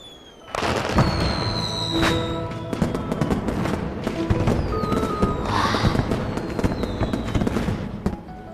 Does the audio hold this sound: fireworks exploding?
yes